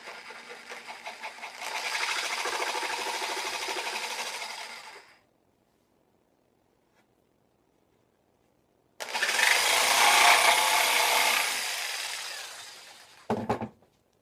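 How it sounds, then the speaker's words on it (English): A saw cuts carefully along marked lines in a piece of wood, heard as two loud bursts of steady buzzy rasping several seconds long, separated by silence and ending with a short final stroke. "It makes a different kind of noise than the first saw we used, but I can cut on the wood with this now"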